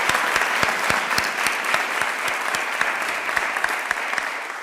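An audience at a music therapy program's tenth anniversary celebration claps steadily, a dense even wash of applause with crisp hand-claps standing out, continuous throughout.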